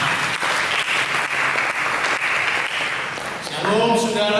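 A church congregation applauds during a sermon, a dense, steady wash of clapping from many hands that holds for about four seconds, with a brief tonal sound rising near the end.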